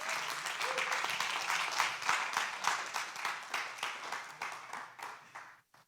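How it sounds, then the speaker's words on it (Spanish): A church congregation bursts into sustained applause, a dense wash of many hands clapping at close range that builds and then fades out within a few seconds. "Así dice dele un aplauso al Señor,"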